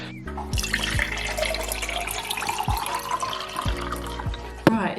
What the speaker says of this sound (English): I've just poured myself a massive glass of water.